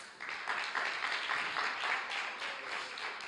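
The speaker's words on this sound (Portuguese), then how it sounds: "Dê um aplauso ao Senhor Jesus" A church congregation applauds in praise of Jesus, the clapping steady and dense across the whole span at moderate loudness, with no voices breaking through.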